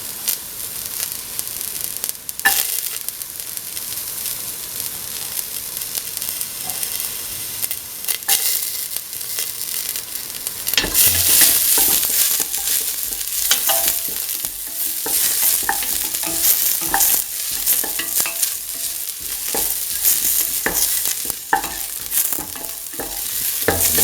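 Shallot frying in a pan and being stirred: crackling sizzle with repeated scraping strokes, growing louder and busier partway through, with no talk.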